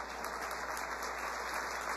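An audience at a county government address applauds, a dense, continuous patter of many hands under a steady hum, fairly even in loudness throughout.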